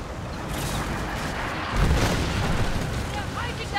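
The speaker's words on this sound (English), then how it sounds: "Pretty good cannon." Ship cannon fire in the Skull and Bones pirate naval game, deep rumbling booms and explosions rolling over a continuous low roar, with a heavier blast around the middle.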